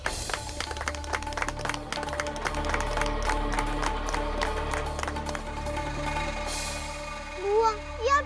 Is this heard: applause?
yes